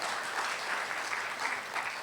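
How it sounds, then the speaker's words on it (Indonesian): A church congregation breaks into applause during a sermon, a steady, even wash of many hands clapping at moderate distance, with no voices over it. "Tepuk tangan untuk saudara-saudara."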